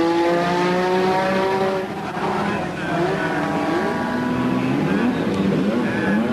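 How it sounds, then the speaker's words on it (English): Lotus Formula 1 car with a modified V6 Renault engine at the 1986 British Grand Prix practice, its rising and falling engine whine running steadily and loudly throughout, with a commentator talking over it. "There is Ayrton Senna's Lotus being readied. V6 Renault engine"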